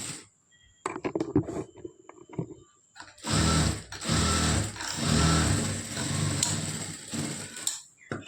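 Sewing machine stitching blouse lining cloth, starting with scattered clicks and short handling noises, then running in long, steady whirring bursts with a rhythmic needle clatter close by.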